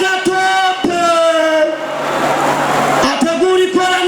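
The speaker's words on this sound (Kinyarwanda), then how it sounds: "wumvise amashyi menshi cyane" A crowd at a Burundi vs Nigeria comedy event breaks into a brief swell of applause and cheering between loud, sung or shouted voices over a microphone.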